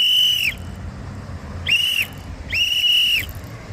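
Three shrill whistle blasts, each roughly half a second long and sharply clear, sounding close over a low outdoor rumble.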